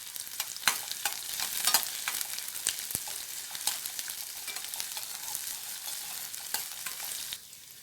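Shallots, garlic and green chillies sauté in a pan for a ridge gourd lentil gravy, making a moderate continuous sizzle broken by frequent spoon scrapes and stirring clicks.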